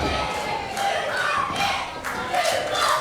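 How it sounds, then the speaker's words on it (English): A wrestling crowd at a UK independent show cheers and shouts after a double super kick, a loud sustained roar with rising swells of voices throughout. "Crowd just acknowledging some super kicks."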